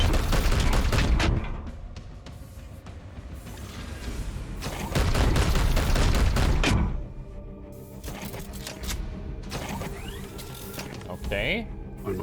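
Gunfire in the game Warhammer 40K: Chaos Gate - Daemonhunters, two bursts of dense rattling shots with mechanical clatter between them, loud and close, mixed with game sound effects.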